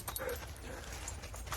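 Dogs whimper outdoors on a late-season January walk, with thin whines and yips rising over a steady low rumble of wind and ground noise throughout.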